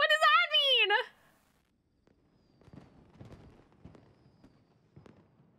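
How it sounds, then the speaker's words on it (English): A voice speaks briefly at first, then distant fireworks crackle and pop faintly in scattered bursts during a Genshin Impact festival trailer scene. "The fireworks have started."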